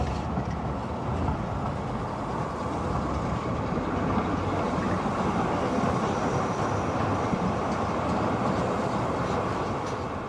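A Tatra T3D tram, a bulky wide Czech-built railcar in East Germany, rolls along with a steady, loud rumbling roar and faint rail clatter throughout.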